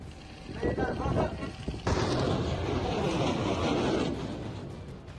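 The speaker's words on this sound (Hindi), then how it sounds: "किस तरह से एकदम सटीक डायरेक्शन में मिसाइल को दागा जा रहा है" A missile is launched during a Chinese PLA military exercise, with a loud roaring blast that swells into a sustained rushing thunder, preceded by rumbling and fading out afterward.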